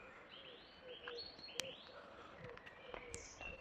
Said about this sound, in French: Les oiseaux sont de la partie.